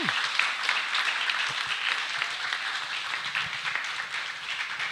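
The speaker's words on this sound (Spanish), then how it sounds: "Un aplauso nuevamente para nuestras 11 participantes." Sustained audience applause at an evening event for a group of participants, a dense, even wash of many hands clapping at moderate distance, continuing steadily without speech.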